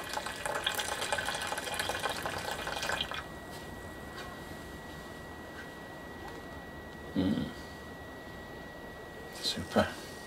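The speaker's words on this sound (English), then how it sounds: "I'll pour that onto the tin foil." Ale liquor from a homemade brew poured out onto tin foil, a broad splashing pour for about three seconds that then stops, followed by quiet background with a couple of brief knocks.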